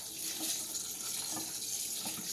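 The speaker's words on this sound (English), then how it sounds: "after you rinse it, and see, there you go. Rinse out all the starch." Tap water runs steadily through rice in a rice rinser, a close, even hiss with faint sloshing pulses roughly every second.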